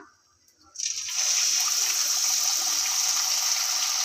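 Sweet appam batter poured into hot frying oil, a sudden loud, continuous hissing sizzle that starts abruptly and holds steady close by.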